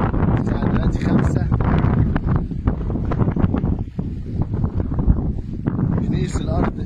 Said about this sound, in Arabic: الجو جميل جدا، نسمة هوا حلوة